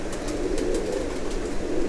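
Pigeons in a loft at a pigeon keeper's place in Islamabad, Pakistan, with steady cooing and low murmuring filling the space alongside a continuous background hum.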